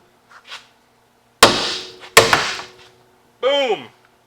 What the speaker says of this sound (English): Here's a ball joint removal pro tip. Use a hammer.